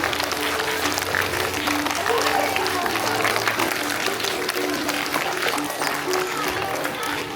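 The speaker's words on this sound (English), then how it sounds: "Clap for Ritu ma'am." Crowd clapping for a nursery teacher at a school Founders Day celebration, a continuous dense patter of many hands with a busy background murmur of voices and movement throughout.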